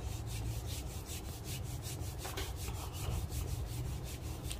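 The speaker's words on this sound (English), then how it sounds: "can hear the burr touching each other" Burrs of a DF64 coffee grinder rubbing against each other during burr alignment, a steady close scraping, rasping rub that holds at an even level throughout, with no talking.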